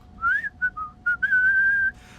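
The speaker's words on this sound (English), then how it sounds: "that whistle is amazing" Clear human whistling from an a cappella group's cover of a Christmas song, a bright melodic line of short notes followed by a long sustained tone with vibrato, close and clean over a quiet background.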